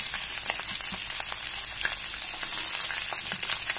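Boiled potatoes, about half a kilo, sizzle in hot oil in a pan for Mumbai-style potato sabzi, a steady fine crackle with scattered pops, close and alone without talk.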